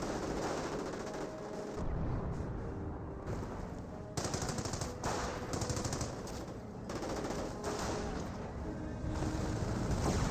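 Dense, sustained machine-gun and rifle fire rattles through a Company of Heroes 1 battle between Panzer Elite and US Forces, with overlapping bursts and distant booms filling the whole stretch.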